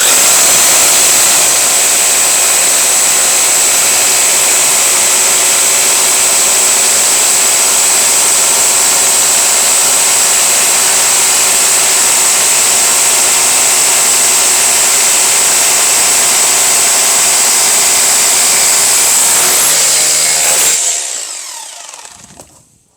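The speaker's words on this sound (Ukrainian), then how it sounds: "А тепер ми порівняємо, як вони працюють між собою і акумуляторний і мережевий." GTM and Bosch cordless and corded rotary hammer drills run continuously, a loud, steady high-pitched motor whine with a hammering buzz that lasts about twenty seconds, then cuts off abruptly into quiet.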